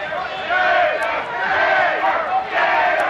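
Wrestling arena crowd at a 1990 IWA event chanting for the Gator in rhythmic, repeated surges of massed voices, loud and reverberant.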